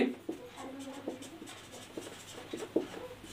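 Chalk or marker writing on a board during a Hindi math lesson on ratios, a series of short scratchy strokes and taps in an irregular rhythm, close and fairly quiet.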